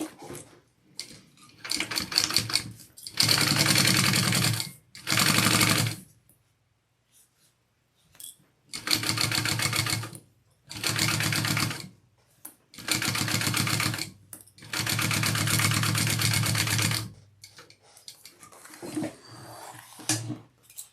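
A sewing machine basting a zipper panel onto a handbag runs in several loud, steady bursts of whirring stitches, separated by short pauses, with no voices.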